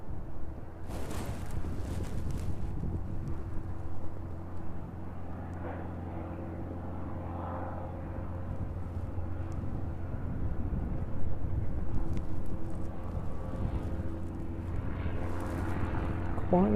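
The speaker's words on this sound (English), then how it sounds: "Cessna 152 making its way down towards us." A Cessna 152 light aircraft descends to land in windy evening conditions, its propeller engine a steady droning hum with a windy rumble underneath, heard from a spotting position near the runway.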